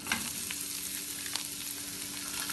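Cashews frying in hot oil alongside chopped ginger, green chili and garlic for a Kerala-style veg curry, a steady close sizzle with soft crackle and a few stirring scrapes throughout.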